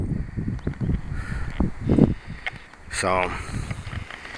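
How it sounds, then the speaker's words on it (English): Strong wind blowing in gusty, rumbling bursts against the microphone outdoors, with someone speaking briefly between the gusts. "All the wind."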